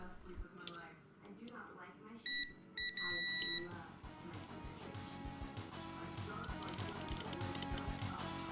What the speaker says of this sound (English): testing for continuity between the pin and the chip legs, just like this until you hear a beep